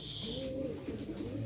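Pigeons coo softly and repeatedly, a low throaty burbling close by with a faint higher chirp at the start.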